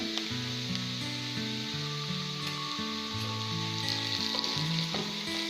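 Onions and turmeric fry for baingan bharta, giving a steady, close sizzle across the whole stretch with no talking. Sustained musical tones also run beneath it.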